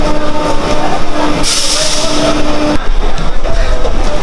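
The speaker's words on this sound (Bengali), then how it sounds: "আমাদের ট্রেনের টাইম হয়ে গেছে, ছেড়ে দেবে।" Hasnabad local train pulling away from a station platform, loud and close, with steady rumbling, tonal hum and a burst of hissing brake or air noise midway.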